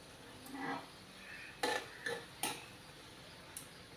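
Rice upma being stirred in a pan: a few soft scrapes followed by several sharp metallic clinks of a spoon against the pan, quiet and close, with no talking.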